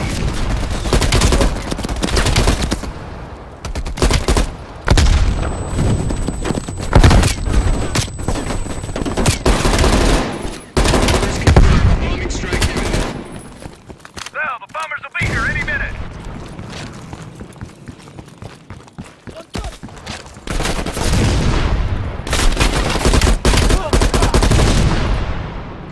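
Machine gun fire rattles in dense, sustained bursts during a Call of Duty Black Ops Cold War firefight, loud and close, easing briefly midway before resuming heavily, with voices and mechanical clanks mixed in.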